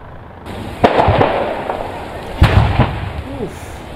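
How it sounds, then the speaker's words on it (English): Sharp explosions from RVs burning overnight in a dealership fire, a few loud booms and pops against a steady roar of flames, with voices heard in the background. "the explosions could be heard as heavy flames burned through multiple RVs"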